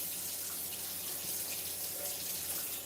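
Tap water streaming steadily into a kitchen sink while a pot is rinsed out, a close, continuous splashing hiss with no speech.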